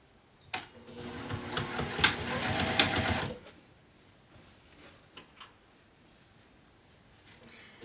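A sewing machine stitches a seam through several layers of a fabric apothecary bag in one loud, steady burst of about three seconds, then stops, leaving faint handling clicks and rustles.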